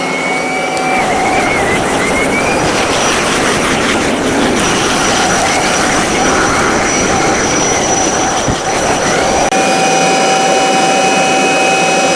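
Kirby vacuum cleaner running steadily, a loud continuous roaring whine with a high tonal hum that shifts pitch briefly near the start and end, no talk.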